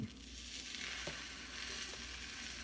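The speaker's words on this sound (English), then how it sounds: "I am slowly pushing the eggs toward the middle" Eggs with vegetables fry in a small non-stick pan, making a steady close sizzle with a couple of soft scraping taps as a utensil pushes the eggs around.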